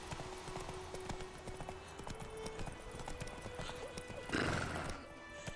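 A horse's hooves clip-clop in a steady rhythm in the Witcher 3 video game, set against a low ambient background, with a louder, brighter burst near the end.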